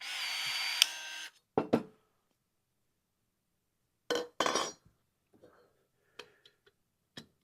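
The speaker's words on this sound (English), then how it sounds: "So I'm just going to do one click." A DeWalt DCE450 20V cordless copper swage tool gives a short whirring burst followed by a few quiet clicks and light knocks in a silent room.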